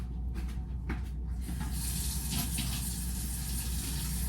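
Hot water runs from a tap, a soft trickle that swells after a moment into a louder, steady gush, close by and with no talking.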